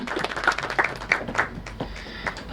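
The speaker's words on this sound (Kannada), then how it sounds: "ದಯಮಾಡಿ ಅವ್ರಿಗೊಂದು ಚಪ್ಪಾಳೆ" A small crowd at a film press meet claps to welcome a guest who plays the halage frame drum, giving a light, scattered round of claps that stays fairly quiet.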